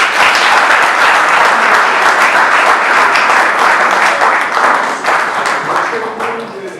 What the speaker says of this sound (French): Applaudissons.